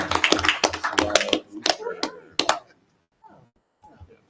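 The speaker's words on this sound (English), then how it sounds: "be recognized so we can applaud you" Scattered applause from a small audience at a school district board meeting, a few seconds of irregular clapping mixed with voices, tapering off into near silence with faint talk.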